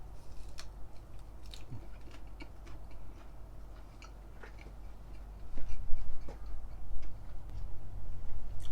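Crisp, scattered crunches from biting into crispy smoked chicken thigh skin, cooked on a pellet smoker, come as close, irregular clicks and crackles over soft chewing, with no talking.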